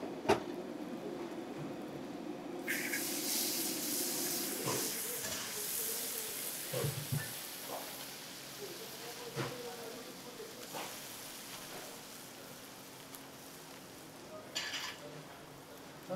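Food frying in cooking oil for a Penang-style mee sotong dish, a steady broad sizzle that rises after a few seconds and continues under intermittent talk before fading slightly toward the end.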